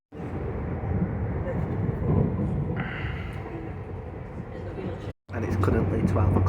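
A steady low rumble and rattle of a moving train fills the interior, with a voice talking over it and a brief cut near the end.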